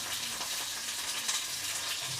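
Food fries in hot oil under a lid, giving a steady, muffled hiss with faint crackles, close and soft, with no voices.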